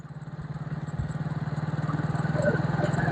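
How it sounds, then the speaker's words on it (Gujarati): A motorcycle rides toward a rural temple along a rough farm-area road, its engine putting out a steady pulsing chug that holds fairly close and strong throughout, with faint voices underneath. "ચાલો મિત્રો, આપણે જઈ રહ્યા છીએ બાઇક લઈને."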